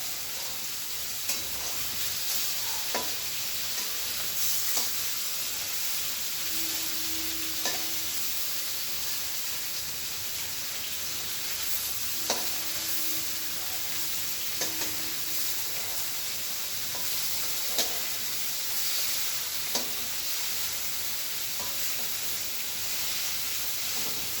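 Prawns and pumpkin fry in a pan with a steady broadband sizzle and hiss, while a utensil stirs with occasional scrapes and clinks over about twenty-four seconds, close and moderately loud.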